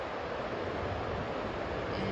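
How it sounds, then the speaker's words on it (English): A waterfall in snowy Tennessee woods, known as the Lady of the Falls, gives a steady, unbroken rushing roar from a short distance, with no talking over it. "And listen to that waterfall sound."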